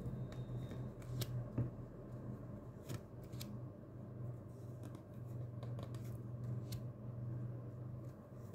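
Tarot cards are shuffled by hand in a quiet room, giving soft, irregular riffling and snapping clicks over a faint low background hum, with no voices.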